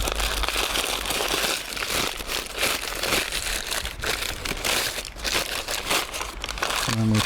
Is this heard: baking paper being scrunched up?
yes